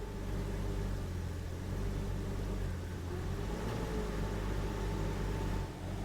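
A Jeep engine with a failing throttle position sensor idles close by as a steady, deep rumble with layered low hum, its pitch shifting only slightly over the stretch, with no voices.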